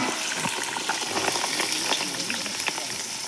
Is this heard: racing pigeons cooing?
no